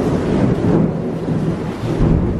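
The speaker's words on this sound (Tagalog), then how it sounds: "Malakas na malakas pa rin ang ulan. Sobrang lakas ng ulan." Heavy tropical rain pours down during a storm on Boracay, a loud, dense roar with deep rumbling thunder rolling underneath throughout.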